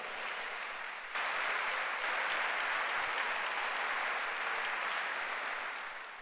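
Congregation applauding at a church congress, a steady broad wash of clapping that swells after the first second and carries on evenly before tapering slightly at the end, with no speech over it.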